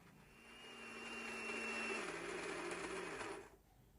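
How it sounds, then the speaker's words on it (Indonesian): A kitchen blender grinds spice paste with cooking oil for chicken noodles, a steady whirring whine that drops slightly in pitch midway before cutting off abruptly near the end. "Lalu nanti blender hingga semua bumbu halus."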